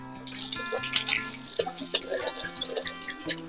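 Dried red chillies, whole garam masala, a bay leaf and cumin seeds crackling and spitting in hot oil left from frying pointed gourd, with dense bursts of sizzle and popping close up.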